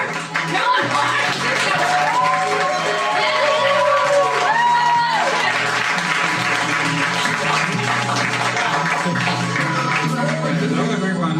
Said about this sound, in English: So everyone, please start clapping from 2074